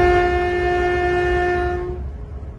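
A standard gauge passenger train built in Poland, for the Tema–Mpakadan line in Ghana, sounds a loud, sustained horn close by. The horn cuts off after about two seconds, leaving the low rumble of the train.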